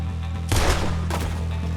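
Gunshots in Red Dead Redemption 2 in the town of Rhodes, two loud reports half a second apart over steady background hum, the first heavier with a short rumbling tail.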